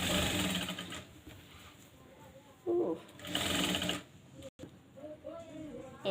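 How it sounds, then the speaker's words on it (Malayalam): A sewing machine stitches a 4-inch-wide seam in short, loud bursts of rapid mechanical whirring, separated by pauses with quieter handling noises. The machine is heard close up. "4 ഇഞ്ച് വീതിയിൽ അടിക്കുന്നു."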